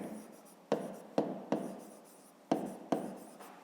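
Pen writing on paper during a fifth-grade maths exercise, five short scratchy strokes that start sharply and fade, close and quiet with no talking.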